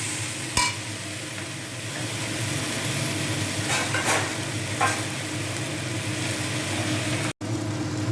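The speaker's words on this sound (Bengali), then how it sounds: "ঢাকা সরিয়ে আমি আরেকটু নাড়াচাড়া করে ভাজা ভাজা করলাম।" Peanuts and potato filling for masala dosa stirred and frying in a pan, a steady close sizzle broken by a few scraping stirs and a sharp clink.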